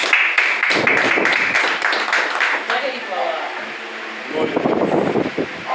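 Church congregation clapping during a worship service, rapid rhythmic hand claps in the first seconds, then fading under voices and room noise before another rise in sound near the end.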